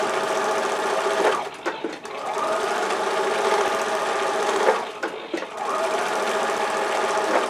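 A sewing machine stitches fabric around a dollar store clothes basket, a loud steady mechanical whirring run that pauses briefly twice, near and continuous.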